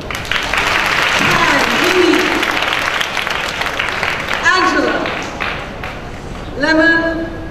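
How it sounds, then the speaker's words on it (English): Applause from a school audience at a teenage cooking contest prize announcement, sustained clapping that gradually fades, with voices and cheers rising over it throughout. "Big clap."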